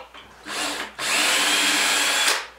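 A power drill removes screws from a plywood board covering a false window in a root cellar, two close bursts of whirring, a short one followed by a longer steady run.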